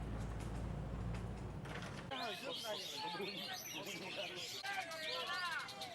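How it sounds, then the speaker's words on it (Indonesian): Magpie robin sings at a songbird contest, a busy run of bright, varied whistles and trills that follows a loud low rumble with a voice, and is crowded by other birds chirping around it. "seekor burung murai"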